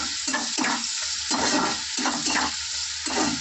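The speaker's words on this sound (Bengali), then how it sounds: "তো পেঁয়াজটা ভাজা হোক।" Chopped onions with cumin seeds frying in hot oil in a pan, a steady close sizzle broken by repeated scraping stirs of a spatula in an uneven rhythm.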